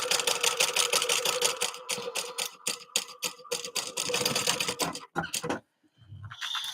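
Sewing machine stitching a seam along 1/4 inch zipper tape, a rapid mechanical chatter in bursts with brief pauses, including short back-and-forth back stitching, close and steady before stopping near the end.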